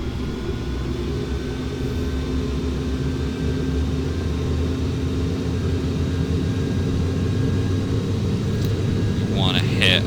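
Airliner engines spool up to full takeoff thrust in Flight Simulator on a Manchester to Edinburgh flight, a steady loud low roar with a faint whine, while someone talks over it.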